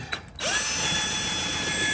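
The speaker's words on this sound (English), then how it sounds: "I'm just here with a drill and a socket" Cordless drill spinning a socket to remove 10 mm plastic-panel bolts beneath a Dodge Charger Daytona SRT, a short tap then a loud, steady whirring run held close to the mic.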